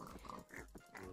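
Pig grunts and oinks from a survival video game, several short snorting calls in a loose rhythm, close and fairly loud with no talking.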